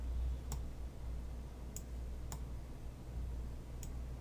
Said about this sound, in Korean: 더블 클릭.